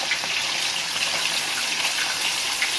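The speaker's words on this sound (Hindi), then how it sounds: "अभी धीरे धीरे इसको तेल में डाल देंगे।" Fish slides into hot oil for a Tamil-style fish fry, and a steady loud sizzle hisses evenly throughout.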